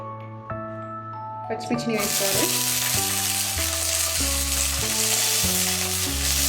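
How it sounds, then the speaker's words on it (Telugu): Chopped green chillies frying in a pan for a Rayalaseema ragi sangati side dish, with a loud steady sizzle rising sharply as they go in, continuing under background music tones. "ఈ పచ్చిమిర్చి కూడా కొద్దిగా వేగాలండి"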